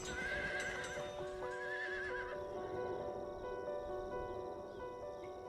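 A horse belonging to a riding business that takes tourists across ancestral lands on Easter Island whinnies with rising, wavering calls near the start, while hooves clip-clop steadily over an outdoor background.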